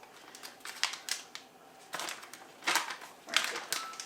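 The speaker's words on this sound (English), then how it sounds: "so we're gonna lay the foil out." Aluminum foil being laid out on a kitchen counter while preparing a weeknight fish dinner gives a series of quiet crinkling, rustling bursts with short pauses between them, close by and with no talking.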